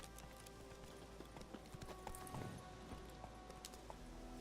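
Rapid rhythmic hoofbeats of a galloping horse in The Witcher 3: Wild Hunt, steady and moderately loud over a dense ambient background.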